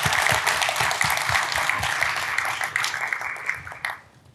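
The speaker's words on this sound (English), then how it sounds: "Let's thank Bob Lee one more time" A conference audience applauds after a presentation, a dense, steady wash of many hands clapping that fades out toward the end.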